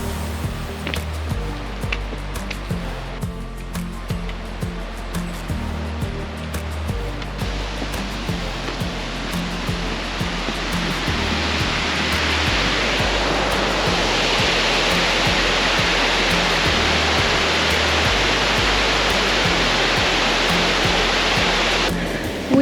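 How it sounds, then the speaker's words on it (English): Double Falls at Silver Falls State Park pours over a rock cliff in two stages, a steady, broad roar of falling water that swells louder partway through and holds as a continuous wash with no voices. "it's called Double Falls because it starts at the tippy top there, and then another fall comes over on the rock cliff"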